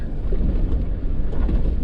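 Strong wind buffets a windy seaside campsite at Punta Final on Baja's Gonzaga Bay, a loud, constant low roar and rumble against the microphone with no voices.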